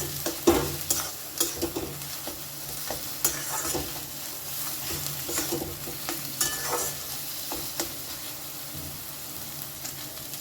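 Chicken samosa filling mixed with egg paste being stirred in a hot pan, a spoon scraping and tapping in an irregular rhythm over a soft continuous sizzle, close and fairly quiet.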